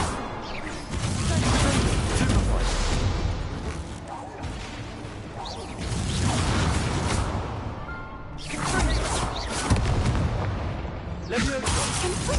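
Incendio fire spells cast again and again during Hogwarts Legacy combat, with fiery whooshes, booms and bursts layered over dense battle noise and game voices for most of the stretch, dipping briefly between rounds.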